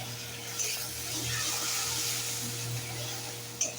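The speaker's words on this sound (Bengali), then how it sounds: "এখন মশলাটা ভালো করে ভেজে নেব। একটুখানি জলও দিয়ে দিচ্ছি এর সাথে, যাতে মশলাটা আরও ভালোভাবে ভাজা হয়ে যায়।" A spice paste fries in a pan with a little water, giving a steady close hiss and sizzle over a low hum, with a small clatter near the end.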